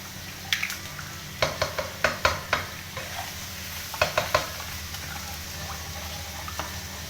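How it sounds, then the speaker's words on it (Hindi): Two whole eggs drop into a hot oiled pan beside chicken fried rice, giving a run of sharp crackling sizzle bursts in two clusters over a steady low frying hiss, close and fairly quiet with no talking. "अब हम इस साइड पे ये 2 अंडे डालेंगे"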